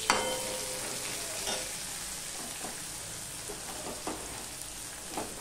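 Chopped onion and garlic frying in oil, a continuous bright sizzle like light rain, with occasional stirring clicks and scrapes, steady and close, no talking.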